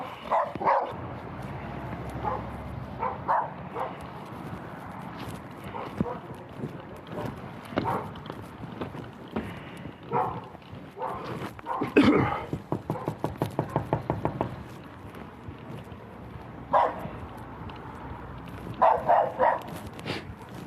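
Aggressive dogs bark in repeated loud bursts close by, with a rapid run of barks midway and more sharp barks near the end, mixed with shouting and scuffling.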